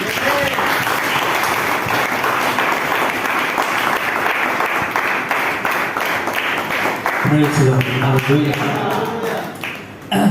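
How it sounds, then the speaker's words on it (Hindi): A church congregation at a Sunday service claps together in praise, a steady, dense round of applause that fills the room and fades near the end as a voice begins speaking. "क्या परमेश्वर की महिमा के लिए ताली बजा सकते?"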